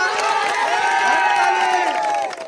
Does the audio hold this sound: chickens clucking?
no